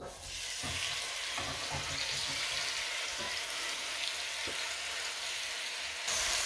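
Lamb pieces frying in hot oil for a stew with potatoes, a steady broad sizzle running throughout at moderate level with a few soft knocks, no voices.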